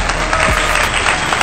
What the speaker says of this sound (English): If we can get a round of applause for him.